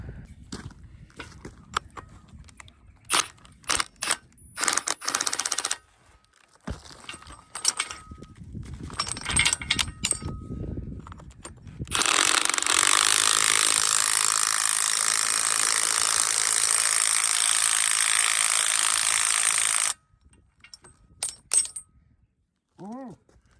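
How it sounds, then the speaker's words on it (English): A Milwaukee impact driver undoing bolts rattles in a sustained loud burst lasting several seconds, preceded by scattered metallic clinks and handling knocks, then a quiet stretch. "I've got the Whizzy gun, the Milwaukee impact driver down here."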